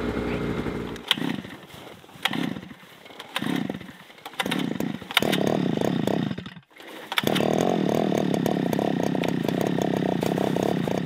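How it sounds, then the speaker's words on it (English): A powered ice auger drills a hole in frozen lake ice for winter fishing, revving in several short bursts before running at a loud, sustained whine, with a brief pause mid-way. "Say drill a hole, right?"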